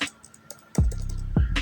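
Typing on a computer keyboard while writing a WordPress post, a few soft scattered key clicks followed by two heavier thumping keystrokes, close and quiet.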